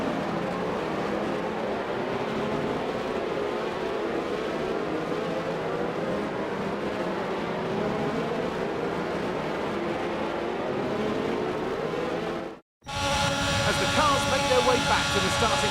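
Race cars from the F1 22 video game rumble through a formation lap, a steady, continuous engine drone that stays loud and unbroken, cut by a brief moment of silence near the end before the roar resumes.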